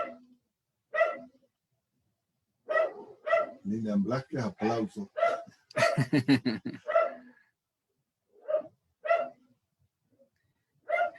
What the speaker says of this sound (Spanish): una disculpa por los perritos de los vecinos que están ladrando bastante